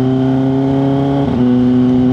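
A loud, steady motorcycle engine drone at high speed with a sustained tonal whine and a brief dip in pitch midway.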